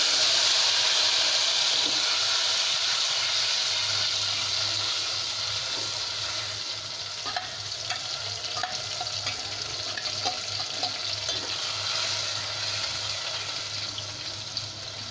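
Curry leaves sizzling in hot oil in a pan for a coconut-milk kingfish curry, a loud, steady frying hiss with small crackles and stirring scrapes, no voices.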